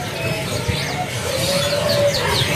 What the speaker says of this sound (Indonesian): Yang sedang mencari burung sanger.